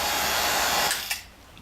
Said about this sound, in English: Okay, I'm going to shut off the vacuum pump.